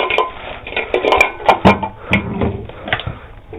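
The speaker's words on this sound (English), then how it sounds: "Alright, there's a pot. Well, I don't need the cover." A metal cooking pot clanks and rattles as it is handled in a kitchen, a series of close, sharp clinks and knocks in irregular rhythm.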